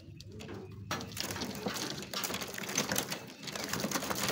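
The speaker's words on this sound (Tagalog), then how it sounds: "First time ko na hawakan lahat ng ibon na to." Racing pigeons being handled while they get used to travel crates before training, with soft cooing and wing fluttering under a busy, close, continuous rustle.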